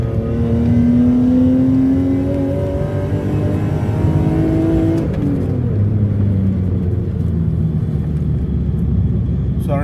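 BMW M54 inline-six in an E39/E46 with a converted intake manifold revs hard uphill, a loud rising engine drone that climbs steadily, drops at a gear change around midway, then pulls again.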